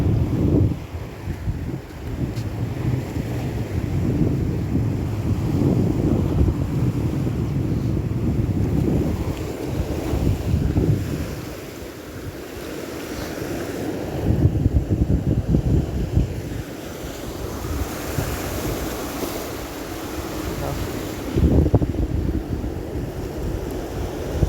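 Ocean waves washing onto an overcast beach, a broad low rumble with surges every few seconds, heavy wind buffeting the microphone throughout, no talk.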